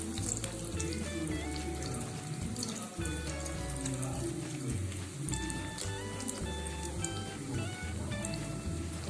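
Bread gulab jamun pieces fry in hot oil, a steady dense sizzle and crackle that runs continuously at close range, mixed with background music.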